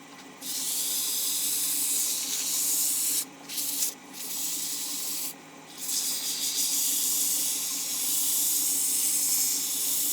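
Cherry wood being sanded by hand with 320 grit sandpaper, a steady close scratchy rubbing that runs nearly the whole time, broken by two short pauses near the middle.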